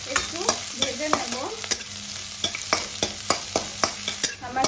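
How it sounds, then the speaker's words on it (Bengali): Chopped garlic and onion fry in a pan for spinach ghonto, a steady sizzle running throughout, broken by repeated sharp scrapes and taps of a spatula stirring. The sound is close and loud, with no talking. "রসুন আর পেঁয়াজ কুচিটা ভালো করে আমি একটু ভেজে নেব।"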